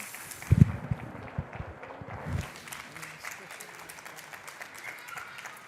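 An audience applauds after a talk on creating a platform for minds of all kinds, a crowd's clapping fading out over a few seconds, with a few louder thumps near the start.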